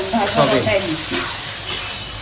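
Soybean, cauliflower and potato frying in a pan, a soft steady sizzle with stirring scrapes, close and moderately loud, brief bursts of clatter near the start and a faint voice mixed in.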